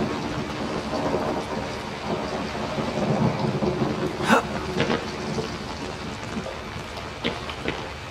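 A thunderstorm rumbles under steady, dense rain, with a sharp thunder crack partway through and further rolling thunder afterward, loud and close over a constant wash of noise.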